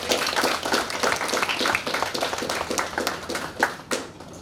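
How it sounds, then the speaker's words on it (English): Audience at a young writers' fiction workshop at a 2019 literature festival claps for a participant, a dense, close round of applause that thins toward the end with a few last claps. "A big round of applause for Emil."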